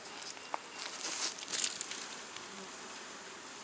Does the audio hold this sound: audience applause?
no